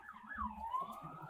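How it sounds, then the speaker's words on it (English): Emergency vehicle siren wailing outside, a single rising and falling tone heard faintly at a distance over low background rumble. "You hear them sirens?"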